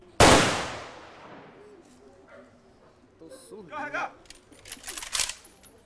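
A sharp loud bang of a gun salute volley at a police officer's funeral rings out and decays, followed by scattered pops and crowd murmur in the background.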